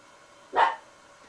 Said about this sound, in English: I'll make the dog bark again.